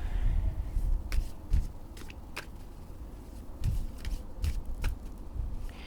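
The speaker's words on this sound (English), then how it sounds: "let me shuffle this 7 times" A deck of tarot cards is shuffled by hand close up, with repeated crisp slaps and riffling bursts over a low rustle, with no talking.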